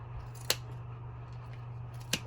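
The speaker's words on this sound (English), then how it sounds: "Now right here is where you cut, and this is why you need the good scissors" Two crisp snips of scissors cutting a beaded tassel, well apart, over a quiet steady hum; no speech.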